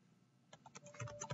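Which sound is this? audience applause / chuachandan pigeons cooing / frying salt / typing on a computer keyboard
typing on a computer keyboard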